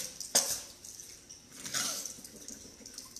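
Tap water splashes and drips into hands during Islamic ablution (wudu), with a sharp splash near the start and a softer spill midway, quiet and indoors.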